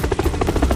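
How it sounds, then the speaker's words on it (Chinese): Several helicopters flying in an animated cartoon, their rotors giving a loud, close, rapid chopping beat that fills the brief moment. "好几架直升机。"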